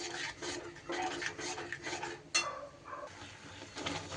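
Spice paste and yogurt are stirred and fried in a pan, giving a steady scraping and rubbing of a spoon against the pan with a soft sizzle beneath and one sharper clink, close and alone.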